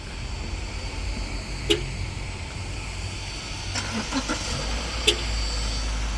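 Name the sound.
car engine running after remote start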